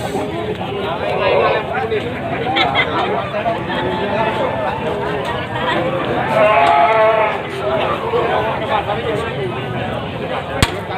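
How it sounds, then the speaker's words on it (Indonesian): Etawa goats bleat repeatedly amid a busy crowd at a livestock market in Indonesia, with steady chatter and market bustle all around; a sharp knock cuts through near the end. "ini kambing jenis etawa tawa hitam tinggi kurang lebih 85 cm harga 3 juta"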